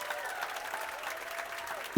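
Faint, steady applause from a distant crowd, a low wash of clapping with a brief louder thump at the very end.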